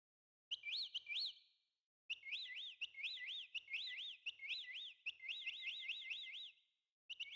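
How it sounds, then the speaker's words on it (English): Looping electronic bird chirps from the Leisure Suit Larry 2 video game, a steady run of bright rising-and-falling tweets in bursts with short gaps, loud and alone. "I hope you like bird noises."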